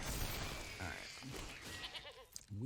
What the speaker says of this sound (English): We have goats.